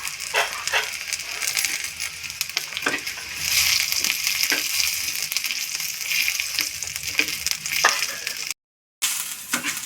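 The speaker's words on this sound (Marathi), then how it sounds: "मिरच्या भाजून घेते." Chillies roasting in a pan for a spicy Kolhapuri-style goat mutton masala, a steady close dry sizzle and crackle with scattered scraping clicks, briefly cutting out near the end.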